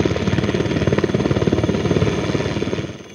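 A military helicopter carrying injured soldiers to Srinagar thunders close by, its rotor blades beating a rapid, steady pulse over a dense engine roar that eases slightly near the end.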